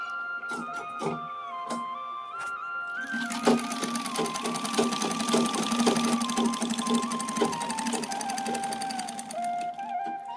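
Sewing machine stitches cloth in a fast, even, continuous whir lasting most of the clip, loud and close, with a few clicks and knocks from handling at the start.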